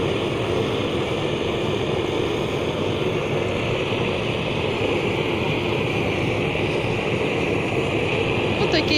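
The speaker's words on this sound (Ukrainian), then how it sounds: "Богдан просить лампу, щоб цього шмалити." A gas blowtorch singes a pig carcass outdoors, giving a loud, continuous roaring hiss of burning gas that stays steady and close throughout.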